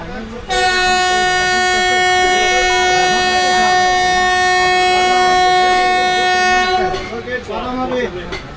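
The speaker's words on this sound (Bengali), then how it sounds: "ট্রেন এখন মানকর স্টেশন থেকে বেরোলো।" A train sounds a long, loud, steady horn blast as it departs Mankar station, followed by rumbling rail noise and voices.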